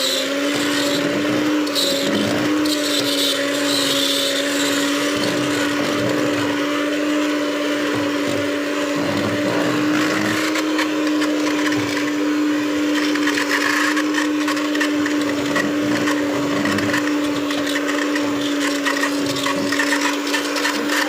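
An electric mixer beats gateau cake batter, holding a loud, steady whirring whine with a strong motor hum for the whole stretch, close by and without pauses.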